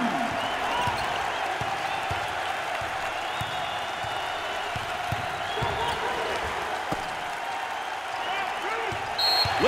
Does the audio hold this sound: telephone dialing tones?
no